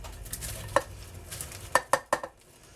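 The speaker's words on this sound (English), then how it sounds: "Just take your onions and put them in your pot" Onions for red onion relish drop into a cooking pot over butter, sugar and garlic, a soft rustling tumble followed by several sharp metallic clinks and taps close by in quick succession; no voices.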